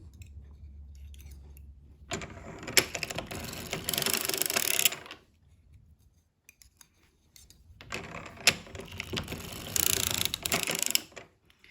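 A circular sock machine with a 64 cylinder knits a sock, giving two long runs of dense rapid mechanical clicking and rattling separated by a quiet pause, close and steady.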